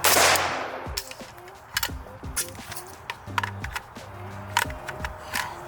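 Clicks and metallic clacks of an X-Tech tactical magazine being fumbled into an AK rifle during a reload, a quick irregular series of sharp knocks close up.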